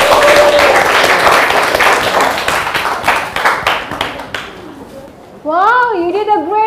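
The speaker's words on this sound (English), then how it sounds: "Give applause to your friend." A classroom applauds students after a presentation, a burst of many hands clapping for several seconds that fades out, followed by a voice speaking.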